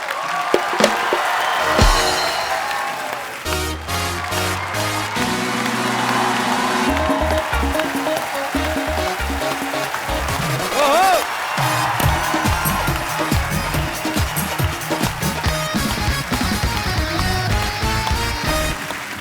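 A studio audience on a comedy talk show claps and cheers loudly for a guest's entrance, a sustained wash of applause with whoops and music running underneath throughout.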